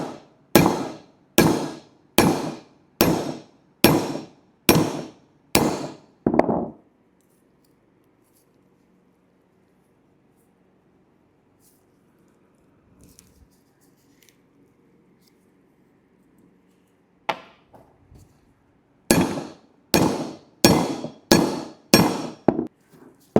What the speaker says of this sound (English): I'm going to allow the U-joint to go down as I'm tapping the cap into the axle